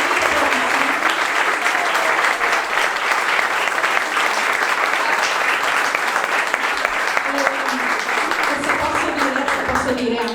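Audience applauding after a children's choir performance at an end-of-summer-camp recital, sustained loud clapping throughout, with some voices and cheers mixed into the crowd.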